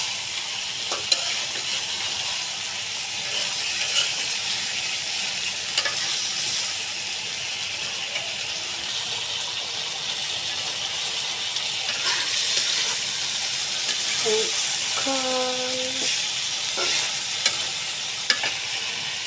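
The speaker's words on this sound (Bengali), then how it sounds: "মাছ দিয়ে এভাবে তরকারি কষিয়ে নিব।" Potato curry with bata fish being stir-fried in a pan: a continuous close sizzle and hiss with repeated spatula scrapes and an occasional light clink of metal, steady throughout.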